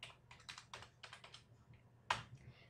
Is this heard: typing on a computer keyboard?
yes